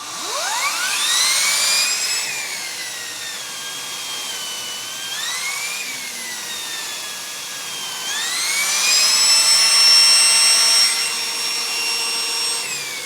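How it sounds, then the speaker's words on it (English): A Henry Petcare HPC 160 vacuum cleaner's pet hair brush spins up with a loud, rising motor whine that climbs in pitch, dips, then surges again, a close, continuous high drone with no speech. "Show how well the pet hair brush, because it spins up"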